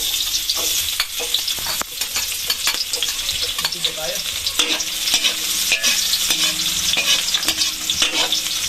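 Onions and spices fry in a pan with a continuous loud sizzle, broken by repeated metal spatula scrapes and stirring knocks at uneven intervals, close up and without voices.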